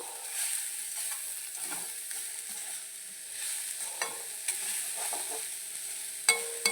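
Papad kondattam thoran being stirred in a pan, soft scraping strokes and a faint, low sizzle with a few sharper clinks of the spoon against the pan, heard close and quiet, with no talking.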